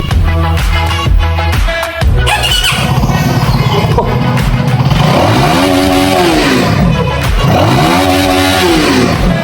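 A CFMoto 250SR motorcycle engine revs repeatedly, its pitch sweeping up and falling back in loud, close bursts after a few sharper blips at the start.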